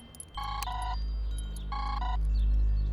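Telephone ringing in a Bollywood crime thriller: two bursts of a bright electronic double-tone ring, clear and close, over a low background hum.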